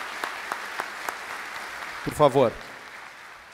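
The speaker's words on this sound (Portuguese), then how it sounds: "queria pedir uma salva de palmas para os nossos painelistas" A seminar audience gives scattered, moderate applause for the panelists, with claps thinning out, and a brief spoken phrase breaks in partway through.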